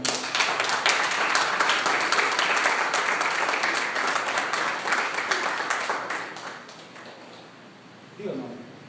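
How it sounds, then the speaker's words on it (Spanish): A church congregation breaks into sustained applause for the Lord during a sermon, dense clapping fading gradually toward the end before a brief voice cuts in. "Dale un aplauso al Señor."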